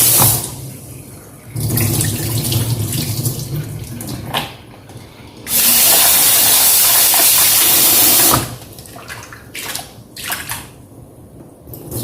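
Peanuts are rinsed under a running kitchen tap, with loud bursts of gushing water that start and stop, broken by softer splashing and handling in between, heard close up.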